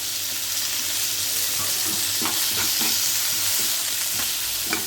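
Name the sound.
curry leaves added to hot oil for millet pongal tempering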